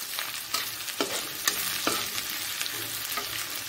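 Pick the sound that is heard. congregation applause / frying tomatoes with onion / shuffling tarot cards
frying tomatoes with onion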